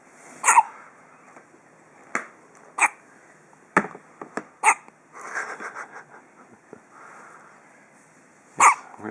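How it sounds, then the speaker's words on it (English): A child hiccups repeatedly in sharp, close, loud bursts spaced a second or more apart across the stretch, with faint rustling between them. "Real good hiccups, huh?"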